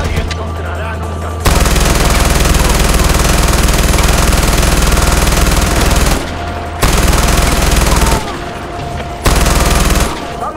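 MG42 machine gun firing long sustained bursts in Far Cry 4, loud and close, a continuous dense rattle broken by short pauses between bursts.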